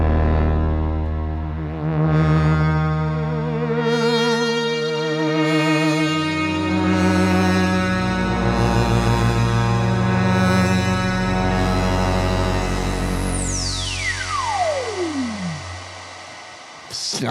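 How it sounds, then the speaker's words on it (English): A layered Roland Jupiter-6 synthesizer patch, doubled and drenched in reverb, plays slow-swelling sustained chords that shift every couple of seconds, with a wobbling vibrato and finally a long pitch sweep diving downward as the sound fades. "We've layered, so we've got a double Jupiter 6 sound."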